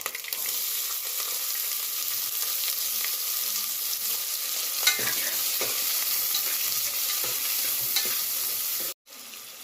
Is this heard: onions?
yes